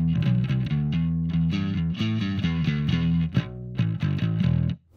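Clean-toned Yamaha bass guitar played alone, a busy run of sustained low notes with steady plucked attacks, loud and close, ending with a final note cut short.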